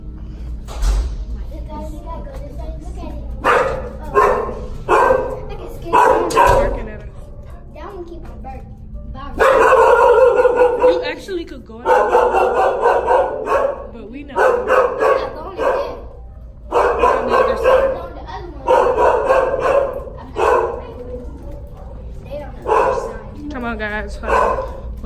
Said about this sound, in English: These are the big dogs. Oh, they're gonna be loud.